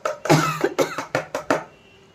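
A person coughs in a close, rapid series of about five or six harsh bursts, each separated by a short breath, with no talking.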